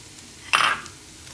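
Green chilies and onion get stirred in a hot pan, a single short scrape and sizzle burst about a quarter second long over quiet background hiss.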